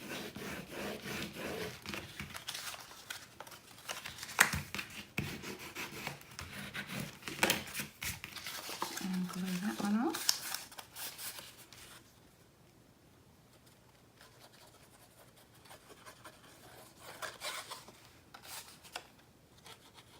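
Glued paper pressed and rubbed down onto a mini album page in a Cricut paper-craft project, giving close, uneven scratchy rubbing strokes for about twelve seconds before the sound drops away to quiet handling.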